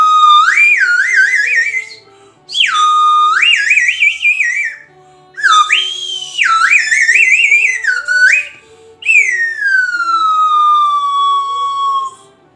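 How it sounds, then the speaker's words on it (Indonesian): A clear, loud whistle-like melody with sliding, wavering tones in several phrases separated by short pauses, ending on a long falling glide. "tadi adalah bunyi peluit atau terompet atau seruling"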